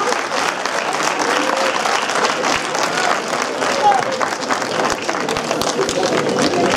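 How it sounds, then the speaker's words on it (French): A cinema audience at a preview screening and debate applauds loudly, a thick continuous wash of many hands clapping with some crowd murmur mixed in, sustained throughout. "merci de les applaudir encore une fois"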